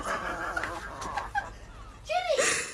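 A chicken on a farm clucks and squawks close by in a few short calls, with a sharper, louder cry near the end.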